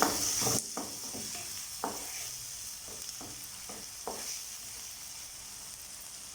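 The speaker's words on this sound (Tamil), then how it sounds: "இதை சேர்த்து நல்லா மிக்ஸ் பண்ணிடலாம். இந்த தக்காளி நல்லா வதங்கணும்." Chopped tomatoes sauté in a pan for a potato masala, giving a steady soft sizzle broken by several scraping stirs of a spoon, close and moderately loud with no talking.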